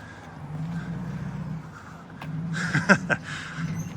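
A car pulls in at a car wash. A low, steady engine rumble swells toward the end and is broken by a brief sharp squeal or clunk.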